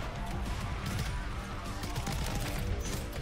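Dense, continuous gunfire from Call of Duty Modern Warfare 3 rattles at full volume throughout, with rapid overlapping shots and crashing impacts filling the whole stretch.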